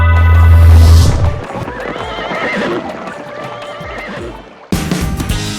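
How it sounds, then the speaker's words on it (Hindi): A horse neighs in a loud, drawn-out whinny with clip-clopping hooves, close and prominent, followed by further rising calls near the end. "मैं ये घोड़ा सिर्फ 5 रुपए में लाया हूँ।"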